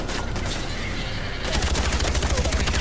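Rapid automatic gunfire in the Far Cry video game, a dense steady burst of shots that grows louder and more regular partway through, close and loud with a busy game soundscape underneath.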